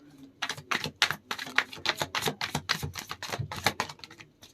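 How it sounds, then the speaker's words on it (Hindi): A deck of tarot cards is shuffled in quick bursts of riffling flicks and taps, close and fairly soft, with no talk. "Last shuffle."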